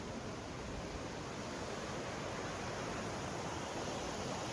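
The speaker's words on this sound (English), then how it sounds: "We happen to be parked next to this rather lovely" A lovely river flowing beside a parked overland van in Mindo, Ecuador, giving a steady, broadband rush of water that holds even and continuous throughout with no voices.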